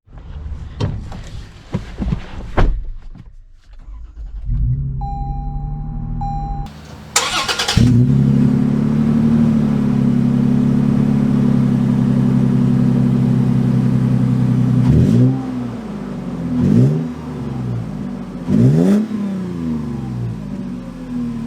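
A 2022 Toyota 4Runner TRD Pro's engine starts after some clicks and a chime, then settles into a loud, steady idle-to-drive hum, with several rising revs as it pulls away and shifts.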